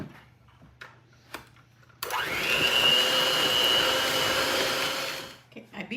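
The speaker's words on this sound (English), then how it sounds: "I beat my butter and sugar combination for 2 to 3 minutes to make it kind of fluffy." Electric mixer beating soft butter and granulated sugar in a bowl, switching on abruptly into a loud, steady whirring drone for a few seconds before winding down.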